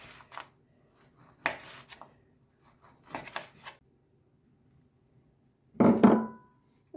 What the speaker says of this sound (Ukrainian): Зараз я їх поріжу на шматочки. Ось на такі невеличкі шматочки буду різати.